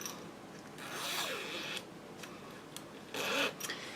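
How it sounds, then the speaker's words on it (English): A zipper is slid and shifted along fabric while a bowler bag is sewn, giving several soft, close rasping zips and rubs in short bursts against a quiet background. "we want to move our zipper in this way"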